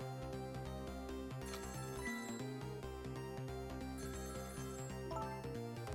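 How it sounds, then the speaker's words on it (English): Repeated electronic telephone ring in the Ghost Trick video game, bright bell-like pulses looping over a steady game music backdrop, no voices. "Phone is ringing."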